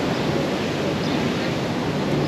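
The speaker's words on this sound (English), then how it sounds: "Wow, look at the waves over here." Surf breaks on the shore at Waikiki Beach, Hawaii, as a steady, dense roar of rushing water with wind buffeting the microphone throughout.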